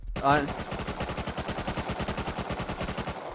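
Rapid automatic gunfire in the survival game Rust, a fast steady burst of repeated shots close up that runs for a few seconds after one louder opening crack, with no talk over it.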